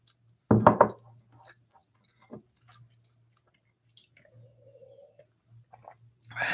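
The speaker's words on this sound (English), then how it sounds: "Sorry for chewing." Food being chewed close to a microphone, a short burst of wet crunchy bites followed by scattered faint mouth clicks and smacks over a low steady hum.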